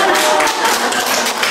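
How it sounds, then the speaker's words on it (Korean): A church women's gathering bursts into applause for the pastor's wife, a dense, steady wash of many hands clapping at close range with no clear gaps. "박수 좀"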